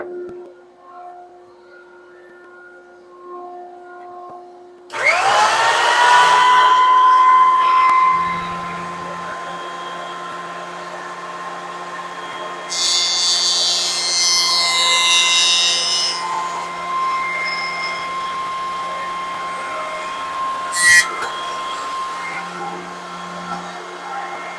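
A jointer flattens the edge of a wooden board: the motor spins up abruptly into a steady, loud whine, with a rougher burst of cutting noise partway through as the board passes over the cutterhead.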